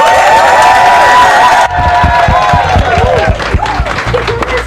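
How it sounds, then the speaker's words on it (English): A packed live studio audience at a community magazine release with a state governor bursts into loud, close cheering and dense clapping that carries on throughout, with shouts rising over the applause. "Our live studio audience is in the building. Give a round of applause."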